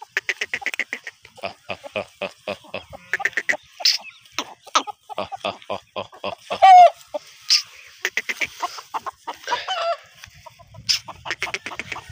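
Aseel desi chickens clucking and squawking close by, rapid rhythmic bursts of clucks repeating throughout, with a few louder cackles standing out.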